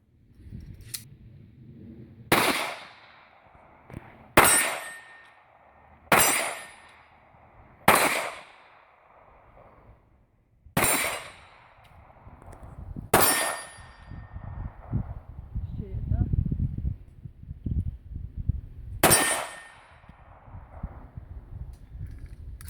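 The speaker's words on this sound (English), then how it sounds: "I have a little footage of my wife shooting it" A Sig Sauer P238 pistol is fired at a shooting range, giving seven sharp, loud reports spaced a couple of seconds apart, each followed by a short decaying ring, with some rumbling noise between shots.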